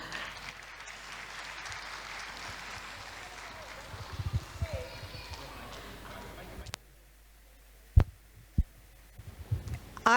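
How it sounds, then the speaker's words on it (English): Applause rises from the audience at an inauguration ceremony, a steady wash of clapping for several seconds before it cuts off, leaving a quiet room with a few isolated thumps. "Please give a round of applause"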